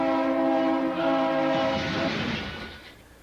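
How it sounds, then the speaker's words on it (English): A train sounds its horn as it approaches a rail crossing with flashing lights and gates, a loud sustained multi-tone blast that fades after a few seconds, ending with a faint click. "I hear a train."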